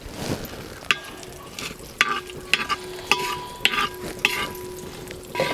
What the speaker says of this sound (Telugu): ఇందులో జీడిపప్పులు కూడా వేసుకుని లైట్గా ఫ్రై చేసుకోవాలి.